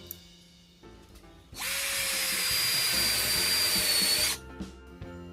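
Ronix 8018 cordless drill in low gear driving a 1-inch screw into wood: a steady, loud motor whir for about three seconds, then cutting off, with faint handling clicks before and after.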